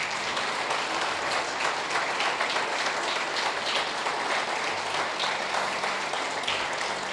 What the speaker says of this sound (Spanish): Hay un aplauso a Cristo